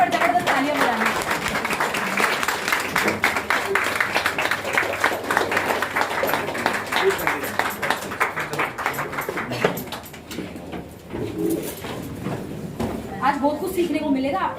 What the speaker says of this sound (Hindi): जबरदस्त तालियां बजाना